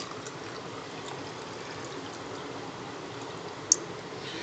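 Water is poured from a glass into crushed ginger and garlic, a soft, steady trickling and splashing heard close and quiet, with one small clink.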